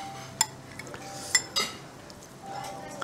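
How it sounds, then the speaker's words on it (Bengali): Metal cutlery clinking against a bowl while eating noodles with a fork and soup with a spoon, a few sharp isolated clinks at close range over quiet room noise and faint voices. "তাই নুডলসটা কাঁটা চামচ দিয়ে খাচ্ছি আর স্যুপটা নর্মাল চামচ দিয়ে।"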